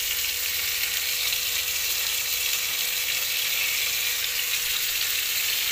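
Potatoes frying in hot oil with added tomato give off a continuous, even hiss and crackle, a steady close sizzle with no voices over it.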